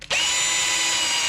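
A power drill bites into steel while working on a diesel heater, a sudden high, steady whine starting abruptly and holding loud and close for about a second.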